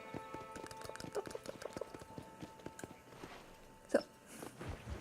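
A horse's hooves clip-clop at a quick trot across open range in the video game Red Dead Redemption, a steady run of close, even hoofbeats with one louder snort-like burst near the end.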